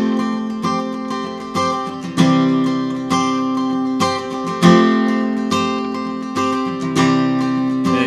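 Acoustic guitar strummed in a pre-chorus pattern, with a few ringing down strums on all strings spaced about a second apart, each chord left to sustain, played alone and close.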